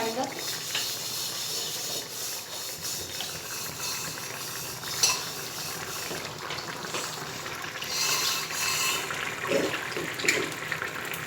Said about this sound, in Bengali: চিকেন কষা হচ্ছে